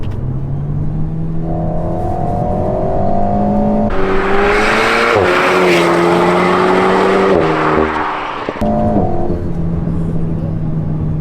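An Alpine A110 sports car cruises on a wet road, its engine a steady loud drone that rises and falls through gear changes, with a louder, brighter stretch of acceleration and road rush in the middle.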